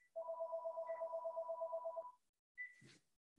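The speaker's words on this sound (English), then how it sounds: "oh, my phone is ringing" A house landline phone rings in a steady electronic warble for about two seconds, fairly close and alone, then a short second ring starts and is cut off by a brief clunk.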